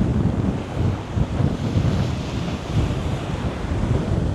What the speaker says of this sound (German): das ist nur ein Geplätscher hier